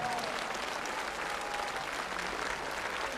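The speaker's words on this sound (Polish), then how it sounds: "To jeszcze raz bijemy brawa." A concert audience applauds the dance ensemble Abrakadabra from Mielec, a steady, even wash of many hands clapping, fairly quiet and continuous for a few seconds.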